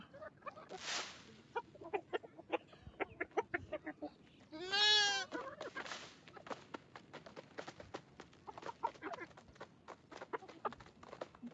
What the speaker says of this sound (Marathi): 2 टाइम या कोंबड्याला बी खाया द्यायला लागतं